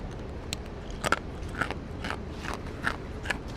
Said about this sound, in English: You can hear the crunch.